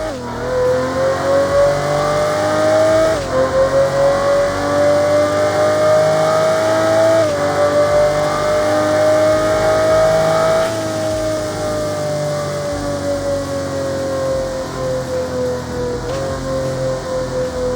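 A V12 car in the racing game Apex Racer revs steadily with a loud, sustained engine drone whose pitch climbs and dips across several gear-like steps, alone without talk.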